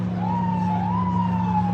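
An ambulance siren wails at a boat crash scene in New York City, a steady rising and falling tone sounding fairly near over a low vehicle rumble.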